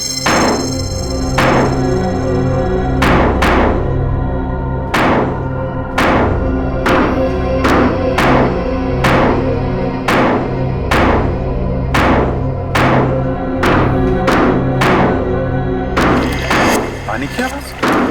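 Heavy repeated blows strike a concrete water tank as it is dug into and broken open, roughly a dozen loud sharp impacts at an uneven pace over a low droning background, with dramatic scoring underneath.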